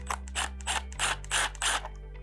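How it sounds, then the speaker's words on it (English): A driver unscrewing T15 screws from the side plate of a Steelcase Criterion office chair, giving a close, rhythmic series of about six ratcheting clicks over a steady low hum. "the first step is to remove the side plate here, and it's just going to be two T15 screws"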